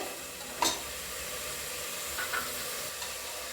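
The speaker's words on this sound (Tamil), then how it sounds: "பாருங்க, நல்லா வதக்கியாச்சு." Masala sautés in a pan for a country chicken gravy, giving a soft, steady sizzle with a couple of faint stirring knocks. No voices are heard.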